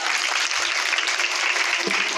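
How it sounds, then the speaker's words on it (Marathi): A crowd at a Ganesh festival singing competition breaks into loud, continuous applause, a thick, even wash of many hands clapping with no pause. "एकदा जोरदार टाळ्या"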